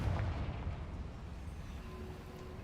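A Confringo fire spell bursts in Hogwarts Legacy with a low, rumbling explosion that hits at once and then rolls and fades over a couple of seconds, deep and muffled rather than sharp.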